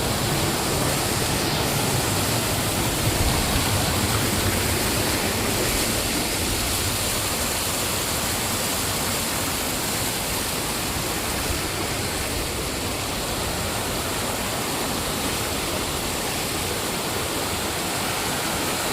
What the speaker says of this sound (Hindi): देखो कितना पानी अच्छा जा रहा है।